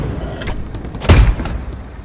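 A tank's main gun fires once in Hell Let Loose, a sharp loud boom with a thudding low blast at mid-clip, set against faint background rumble and a few lighter distant shots, no talking.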